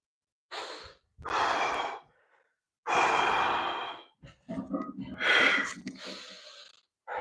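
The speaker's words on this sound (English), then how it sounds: "pardon the heavy breathing" Heavy, effortful breathing during a leg-day workout in a home gym, several loud drawn-out exhales and gasping sighs separated by short pauses, close and without speech.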